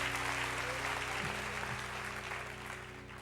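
Church congregation applauding together, a steady wash of clapping held at an even level under a low hum, easing off slightly toward the end.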